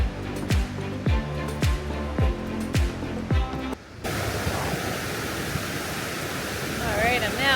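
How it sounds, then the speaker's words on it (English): Steady broadband rush of falling water dominates the second half, after several seconds of clattering, thumping movement; a continuous roar, moderately loud and close. "See a waterfall that way."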